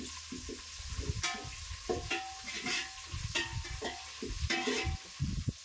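Garlic frying until golden, a quiet sizzle under repeated scraping and tapping of a spoon against the pan in short uneven strokes, close and fairly faint with no talk.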